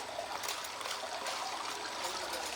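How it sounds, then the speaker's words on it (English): Water runs and trickles steadily over a freshly painted gold wash plant table as old dirt is rinsed off, a continuous close hiss with no talk. "Rinsing all the old dirt off the table."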